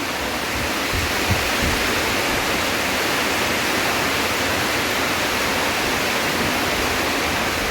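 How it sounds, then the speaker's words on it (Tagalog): Heavy rain pouring down and flooding water, a dense unbroken roar of hiss that stays loud and even throughout with no talk over it. "Ang lakas ng ulan."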